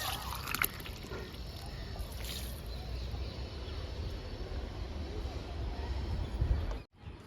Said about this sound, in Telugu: జామ మొక్క కూడా లిక్విడ్ ఇద్దాము డబ్బాల పోస్తున్నా